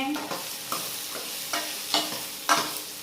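Okra stir-frying in a pan over a low flame, a steady soft sizzle broken by several sharp scrapes and stirs about every half second, close and fairly loud with no voices.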